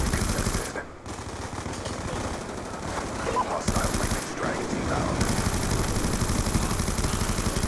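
A heavy automatic weapon firing in rapid sustained bursts in the Call of Duty Black Ops 2 multiplayer video game, close and loud, with a brief pause early on and engine-like background noise.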